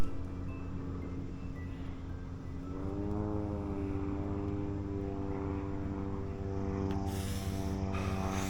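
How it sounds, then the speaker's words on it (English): A propeller plane drones overhead, its steady engine hum rising and shifting in pitch as it passes, moderately distant with no voices. "A little bit of a plane flying over."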